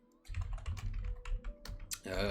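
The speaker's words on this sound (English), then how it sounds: "Oh my goodness, my typing." Rapid clicking of keys on a computer keyboard, a quick irregular burst of close, fairly loud taps lasting about two seconds.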